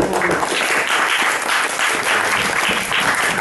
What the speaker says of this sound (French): Un tonnerre d'applaudissements pour lui.